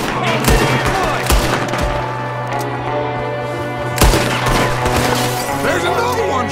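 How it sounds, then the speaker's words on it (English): Gunfire during an ambush in the video game Red Dead Redemption 2, with sharp loud shots at irregular intervals over a dense, busy game soundscape while voices shout nearby. "There's another one shooting from the window!"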